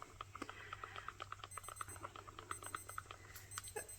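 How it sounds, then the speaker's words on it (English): A kitchen timer beeps in quick repeated electronic pulses, fairly faint and steady for a few seconds in a quiet room where resin is being mixed. "There goes my timer."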